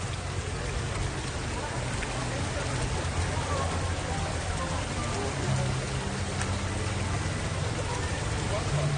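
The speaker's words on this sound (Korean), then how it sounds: "물소리 들린다." Shallow stream flowing through a cherry blossom festival in Ulsan, Korea: a continuous, steady rushing and splashing wash of water, close and fairly loud, with faint voices mixed in.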